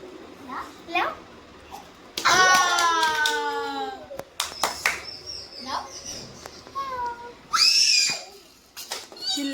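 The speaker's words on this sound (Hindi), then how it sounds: "चिल्लाना देखो उसका चिल्लाना।" A young girl screams and squeals while playing, with loud shrill bursts spread among child chatter, hand sounds and an adult speaking nearby, all close to the microphone.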